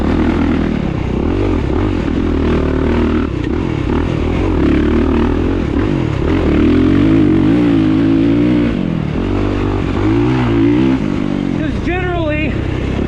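A 2023 Kawasaki KX450SR dirt bike engine pulls hard in third gear, a loud, steady, close motor drone that rises and falls in pitch over the whole stretch of riding.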